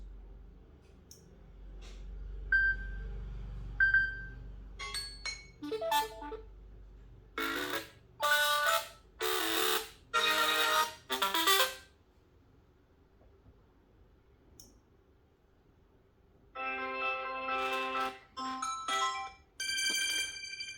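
A phone ringtone played through the newly replaced buzzer speaker of a Samsung A70, bursts of bright electronic tones in repeated rhythmic groups with pauses between, fairly loud and close, with handling noise and faint beeps in between.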